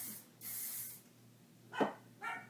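Two bursts of hair spray hiss, the first longer and steadier, followed later by two short quick sprays, close by with no talking.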